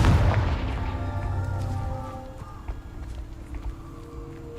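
Fiery Confringo spell blasts in Hogwarts Legacy, a loud booming burst at the start that decays into crackling, rumbling game effects with tonal magic hums lingering underneath.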